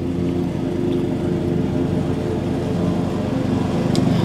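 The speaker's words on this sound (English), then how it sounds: "Sorry about the lawnmower guy running his mower over there." A lawn mower engine drones steadily nearby in an outdoor garden, a continuous loud hum with no breaks.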